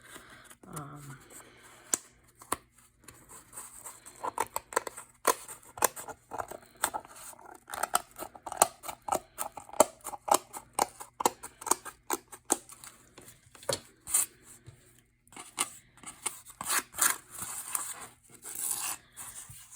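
Scissors cut plaid paper for a Christmas card in repeated close snips, mostly quick irregular bursts of crisp cutting with soft paper rustle between them and brief pauses.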